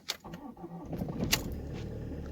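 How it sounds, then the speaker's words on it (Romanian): A Ford Mondeo MK5 diesel with over 223,000 km cranks and starts at minus 8 degrees, a short click followed by the engine catching and settling into a steady idle, alone and fairly quiet. "Minus 8 în bord, impecabilă pornirea."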